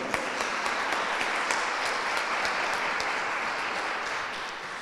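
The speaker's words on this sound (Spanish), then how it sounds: "Don Sergio Ruiz Macizo, un fuerte aplauso." A crowd claps steadily in sustained applause, a dense wash of hand claps that fades slightly toward the end.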